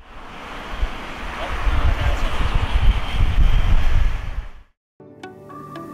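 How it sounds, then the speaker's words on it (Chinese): Cars pass along a roadside, heard as a broad rushing roar that swells and stays loud for several seconds, then cuts off abruptly into near silence with faint tonal sounds. "大家可以听听看车辆从后面经过的这个降噪效果"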